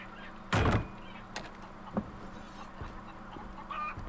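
A door opens in the video game Far Cry 3 with one loud thunk early on, followed by fainter clanks and knocks over a quiet room tone.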